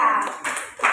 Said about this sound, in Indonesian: Oke, tepuk tangan dulu untuk dia.